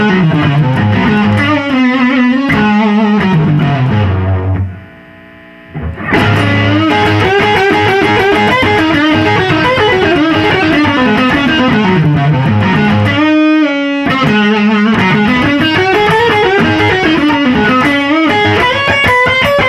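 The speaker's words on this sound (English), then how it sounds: "with distortion with the deep setting, it's very full on overdrive" Heavily distorted electric guitar through The Duellist dual overdrive pedal on its distortion channel with the deep setting, loud and full, with sustained chords and melodic runs, a brief drop near five seconds, then more riffing alone.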